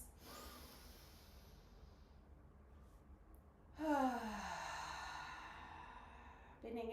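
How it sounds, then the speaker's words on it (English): Slow, deep breaths let out in long, audible exhales during a guided sound-healing meditation. The breaths are soft and airy, close to the microphone, with a brief gap between them and no talk over them. "let's take 3 nice deep breaths"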